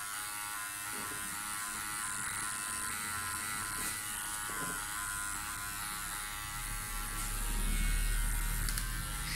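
A Powertec TR 1700 electric hair clipper cuts hair at a home trim, a close, constant buzzing hum with faint shifts as the blade moves, rising slightly near the end.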